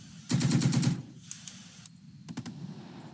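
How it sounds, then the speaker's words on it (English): Machine gun fire in the Second Front strategy game: a loud rapid burst of about six shots lasting under a second, then scattered fainter clicks and a tight pair of shots, with no talk. "First fire there, MG only."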